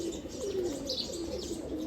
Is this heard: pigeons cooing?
yes